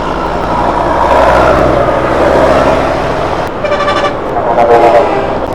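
Road traffic on a highway with trucks in the fast lane, heard from a moving motorbike: a steady loud engine and wind rumble, with a couple of short horn toots near the end.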